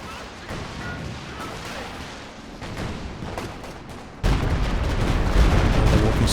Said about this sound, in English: Walking Stuka barrage.